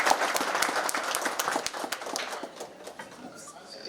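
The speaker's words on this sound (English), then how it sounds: "Just give them a round of applause." Crowd applause for a Zimbabwean choral group performing in South Africa, with distinct individual claps over a fuller background of clapping that gradually thins out toward the end.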